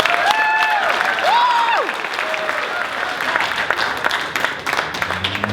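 A steady burst of audience applause and crowd clapping at a 2016 State of the City presentation, sustained for several seconds and filling the room, with faint voices mixed in.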